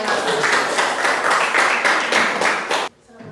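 A sixth-grade class in an Islamic religious education lesson claps together in a dense, steady rhythm for nearly three seconds, loud and close, then stops abruptly into quiet room tone.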